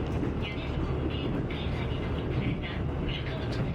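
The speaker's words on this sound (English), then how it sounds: "We take an express train towards Kanazawa" Continuous low rumble and rhythmic rattling of an express train in Japan running at speed, steady and close, with no talking.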